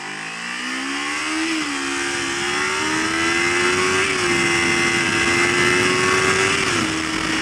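Kawasaki Ninja 250 motorcycle accelerating hard to about 12,000 RPM, its high-revving engine whine climbing steadily through the gears with brief dips at each shift, loud and close for the whole stretch, with wind noise and no talking.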